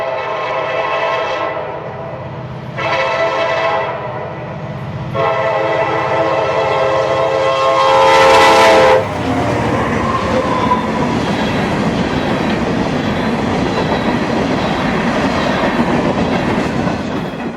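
A CSX northbound freight train of empty rock hoppers sounds a series of loud horn blasts, then passes close by with a steady rumble and wheel clatter.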